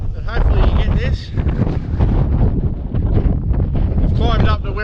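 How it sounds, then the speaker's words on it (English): Strong wind buffets the microphone with a loud, continuous low rumble, while a person talks over it throughout. "It's a bit bloody windy."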